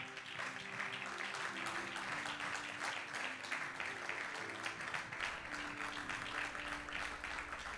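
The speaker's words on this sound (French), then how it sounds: "On acclame pour la parole du Seigneur" A church congregation applauds in a sustained burst of clapping that goes on steadily for several seconds, moderately loud in a reverberant room, with a faint sustained musical tone underneath.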